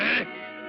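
A cartoon goose gives a single short, nasal honk that sounds like a quack, loud and close, then a faint tonal tail trails off.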